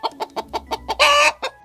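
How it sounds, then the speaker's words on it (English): A hen clucks in a quick, evenly spaced run of six short clucks, then lets out a longer, harsher squawk and one final cluck, close and clear with nothing else audible. "What does the hen say?"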